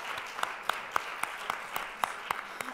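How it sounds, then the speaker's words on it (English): A small audience at a university data event claps, producing sparse, distinct hand claps at a moderate distance that stay thin rather than building into a full ovation. "so one more round of applause."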